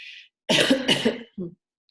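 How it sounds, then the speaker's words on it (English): A person clears their throat up close: a brief breathy sound, then a rough, gravelly rasp lasting about a second, and a short final grunt, all without speech. "Clearing my throat."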